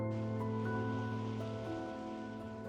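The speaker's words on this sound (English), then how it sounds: "Just enjoy the rain while you can." Rain falling in a video game, a soft steady wash of rainfall beneath a sustained layered tonal music bed, fairly quiet and continuous, with no voices.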